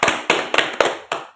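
Five sharp hand claps from a school talk show audience ring out close and loud at an uneven pace, each one snapping and then fading quickly, with no voices over them.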